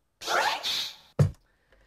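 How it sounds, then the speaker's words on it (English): A DJ fresh scratch on a turntable: two quick scratchy sweeps of a record back and forth, followed by a sharp, punchy cut, all crisp and close in otherwise silent surroundings. "Another sound which is very, very popular for battle DJs and for scratching is called the fresh"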